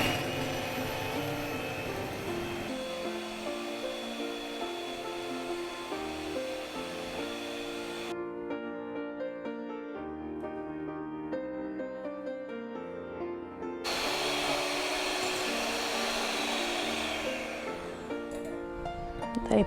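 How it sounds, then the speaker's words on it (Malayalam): An electric beater whips eggs with a teaspoon of vanilla essence for a Christmas toffee cake batter, giving a steady whirring drone over background music, cutting out midway and then resuming. "ഇനി ഇത് നമുക്ക് നന്നായിട്ടൊന്ന് ബീറ്റ് ചെയ്തെടുക്കാം."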